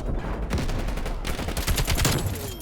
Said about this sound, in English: That's why you have to pull out the shotgun.